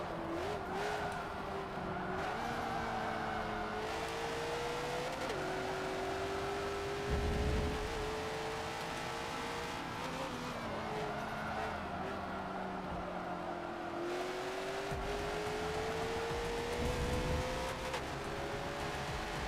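A supercar engine drones and revs continuously while racing in Forza Motorsport 7, the pitch rising and dipping through gear changes, with brief tire squeals and skids mixed in and no talk.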